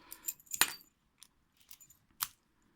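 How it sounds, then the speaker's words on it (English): Keys and an old Lockwood 245 brass padlock clink and rattle at close range, a few sharp metallic jingles separated by brief quiet gaps and small scrapes, with no talking. "Put the key in, give it a twist, nothing's happening."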